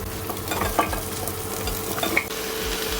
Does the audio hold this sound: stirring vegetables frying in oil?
yes